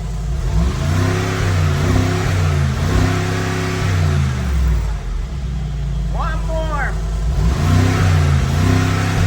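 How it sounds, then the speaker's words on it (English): A 2024 Mercedes-AMG G63 engine idles with a deep rumble and then revs up in surges, loud and close, while a person says a few words over it. "go ahead, give us some revs"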